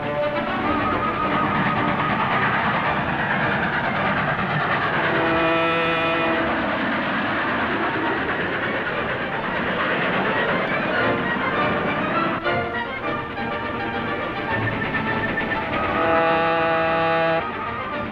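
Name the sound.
train running on rails, radio drama effect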